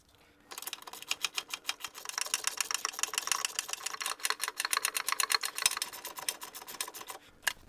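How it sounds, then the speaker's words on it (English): Nuts and bolts being tightened on the front suspension of a 1972 MGB, a fast run of closely spaced metallic clicks like a ratchet wrench, close and fairly loud, continuing for several seconds with no talking. "So let's put in the nuts and bolts and tighten this down."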